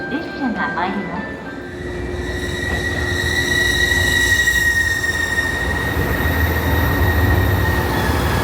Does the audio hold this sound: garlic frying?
no